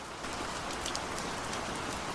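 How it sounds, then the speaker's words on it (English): Rain falls steadily, a soft continuous patter with scattered sharper drops ticking on a surface, moderately quiet and even throughout with no voices. "Keep listening to the sound of rain and fall into a deep, peaceful sleep."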